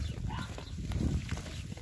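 Farmyard livestock, sheep with lambs and French Alpine goats, bleating and calling amid steady outdoor background noise, close to moderately near.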